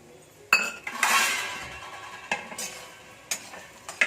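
Semolina roasting in ghee in a pan is stirred with a metal spoon, producing sharp clinks and scrapes against the pan at irregular intervals between a soft, faint sizzle.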